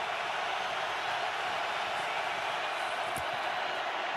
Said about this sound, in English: Crowd roaring at Soldier Field.